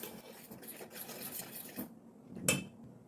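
All-purpose flour with salt mixed for bolani dough, soft quiet rubbing and scraping in a bowl, then a single sharper clink of utensil against the bowl near the end.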